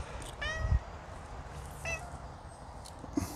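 A cat meows twice in a quiet indoor room, the calls close and clear, followed by a soft thump and a brief faint chirp near the end.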